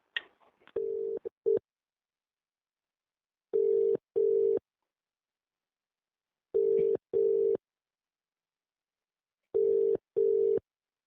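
A telephone line sounds its repeating tone while a conference call is being connected: paired short beeps at regular intervals, clear and isolated against silence, after a brief burst of line noise at the start.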